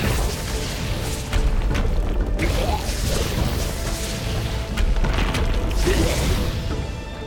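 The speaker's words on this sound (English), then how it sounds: "We'll hit him with that explosion." A booming explosion in the video game Ori and the Blind Forest, a broad crash of sound layered over dense game music and effects that stays loud throughout, with a second swell partway through.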